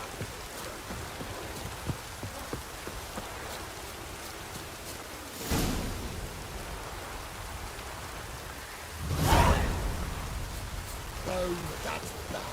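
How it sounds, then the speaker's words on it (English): Steady rain patters throughout in The Witcher 3: Wild Hunt, with a couple of louder whooshing swells of wind or thunder rolling through. "No use doing any work in this rain."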